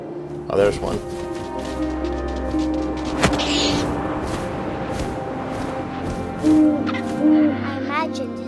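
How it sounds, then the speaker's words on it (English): Owl hooting in the video game What Remains of Edith Finch, a few soft hoots rising over a low wind-like ambience with a voice talking underneath. "It's a big owl."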